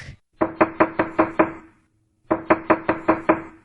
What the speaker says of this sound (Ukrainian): Стукає молоток